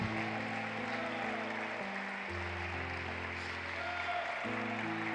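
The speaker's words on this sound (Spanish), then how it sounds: "Dele un aplauso fuerte a Cristo" A church congregation claps steadily over sustained keyboard chords, the applause forming a dense, even wash for the whole stretch.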